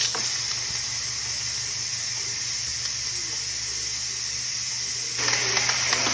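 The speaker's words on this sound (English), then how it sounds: "I'm going to do a quick release, which means a manual release." An Instant Pot vents steam in a quick release after pressure cooking macaroni and cheese, giving a loud, continuous hiss close by that holds steady throughout and swells slightly near the end.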